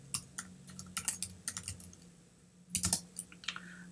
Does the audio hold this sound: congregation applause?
no